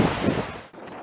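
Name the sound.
strong wind and high waves at sea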